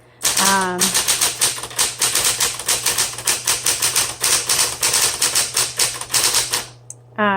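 A 1970s Smith Corona Coronet Super 12 Coronomatic electric typewriter typing at close range: a loud, rapid, steady run of crisp keystrokes over a low motor hum, with a short mechanical whir at the start.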